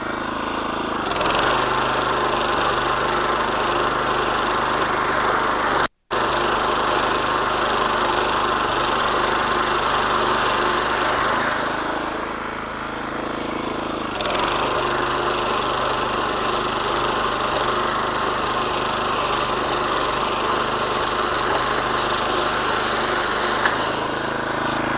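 A lawn mower scalping Bermuda grass down to 3/8 inch runs continuously, a steady droning engine that dips briefly in load partway through and otherwise holds a constant loud hum.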